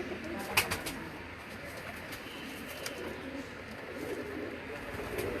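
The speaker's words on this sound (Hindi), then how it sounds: "इसमें थोड़े से तस्वीर वाले कबूतर हैं" Tasveer-type pigeons cooing on a rooftop in Lahore, soft throaty coos repeating under a steady outdoor hiss with faint chirps in the background.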